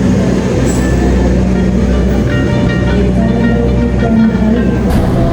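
The Wijaya Kusuma passenger train rolls onto track 5 at Surabaya Gubeng station, heard from inside as a loud, continuous heavy rumble with faint squeals over the steady roar.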